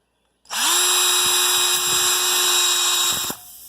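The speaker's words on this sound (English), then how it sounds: "what the first thing I'm going to do is I'm going to actually use a small drill bit and drill that out" A power drill with a small bit drills out a hole in a tire, whirring up to a high, steady whine, running for about three seconds close by, then winding down and stopping.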